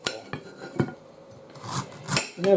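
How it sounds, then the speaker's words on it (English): A knife cuts pineapple into thin slices on a board, giving several sharp taps and scraping contacts spaced irregularly, close and fairly loud, with a brief rustling handling sound toward the end. "just chop it into thin cut slices like that"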